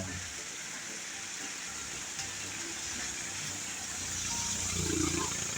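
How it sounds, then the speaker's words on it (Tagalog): Tricycles pass along a road in heavy rain and gusting wind, a steady wet roar that swells louder near the end as an engine draws close. "May mga nadaan tricycle."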